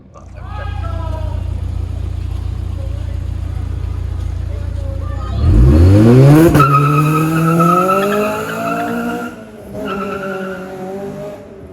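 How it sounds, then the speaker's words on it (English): A 2010 Honda Civic Type R engine with aftermarket exhaust revs hard and climbs in pitch with a throaty exhaust roar and tire squeal, loud and close, after a steady idling rumble. "Car sounds really good"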